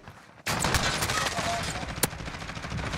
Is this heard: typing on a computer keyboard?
no